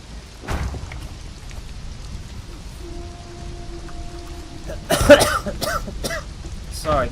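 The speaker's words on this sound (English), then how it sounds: "coughing a little bit because of my cold" A person with a cold gives a sharp cough early on and then a burst of harsher coughs and throat clearing near the end. Steady rain sounds from a game play softly in the background.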